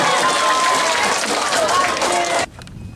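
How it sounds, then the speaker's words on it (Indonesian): Audience applause during a regional governor's working visit, a dense burst of clapping from a crowd with cheering, loud and close, cutting off abruptly near the end. "kita tepuk tangan dulu buat Bapak ini"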